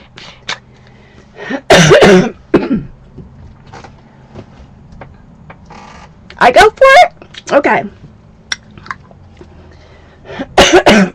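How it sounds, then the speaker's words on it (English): Harsh coughs come in several bursts with quieter stretches between, close and loud, and a person speaks briefly in between. "I usually have a coughing attack during every show."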